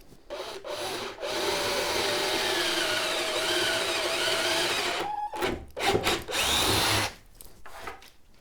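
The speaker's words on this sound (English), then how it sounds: "So I'm going to drill a second hole just above the first in the top 3." Power drill boring a hole into green oak for a raised garden planter, a steady continuous drone of several seconds, then short bursts as the bit stops and restarts near the end.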